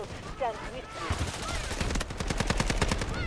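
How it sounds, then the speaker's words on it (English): Rapid bursts of automatic gunfire from the Delta Force video game, with an SMG-45 in play, rattling loud and continuous through the second half after muffled game noise and distant shots. "Someone's shooting at me from there."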